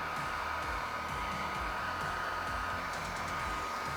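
A heat gun blows hot air over vinyl wrap being folded onto a Tesla Cybertruck frunk, producing a continuous, even blower whoosh close by for the whole stretch, with faint handling noises beneath.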